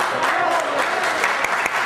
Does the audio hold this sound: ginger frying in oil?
no